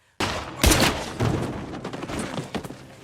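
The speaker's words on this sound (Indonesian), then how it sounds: "Secara mengejutkan, Jerry justru menembak Nick berniat ingin membunuhnya." Gunfire erupts in an action film scene, with a loud sudden onset and a sharp blast followed by a rattling volley of shots and reverberant crackle that fades gradually.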